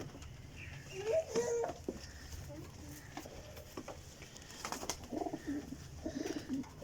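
Teddy golden flying pigeons with black tails coo in a loft, soft low calls scattered among clicks, flutters and shuffling, fairly faint overall.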